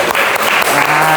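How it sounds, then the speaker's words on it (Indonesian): A brief, dense burst of applause from a class of students, close and loud, with no talking over it. "Oke, berikan tepuk tangan dulu."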